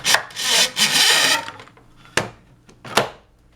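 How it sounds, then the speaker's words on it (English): Wire coil unwinding off a mandrel in a chainmaille coil-winding setup gives a close, loud scraping rasp. A long grinding stretch is followed by two sharp metallic clicks and some fainter rattles. "it basically will just unwind, feed right off as I pull the mandrel out"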